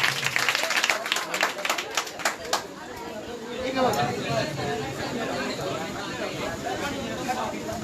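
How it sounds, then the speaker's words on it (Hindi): Audience applause at a Hindi Day award ceremony in Bhatpara, scattered claps at first that swell into a steady round of clapping over crowd chatter. "तालियां बजाकर हौसला अफजाई करते रहें"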